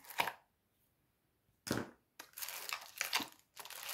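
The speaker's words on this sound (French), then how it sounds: "Je sais pas si avec le ciseau, je peux couper ça." Scissors snip and crunch through the stiff parts of a book nook kit in a handful of short, close cuts separated by silent pauses, crisp and crinkly.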